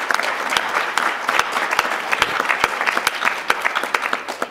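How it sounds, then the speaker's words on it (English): An audience at a conference panel at an urban elementary school claps hands, a steady close patter of many hands with distinct sharp individual claps standing out, no talk over it. "would you clap your hands for Principal Burke and Donna Fout, who are working with us?"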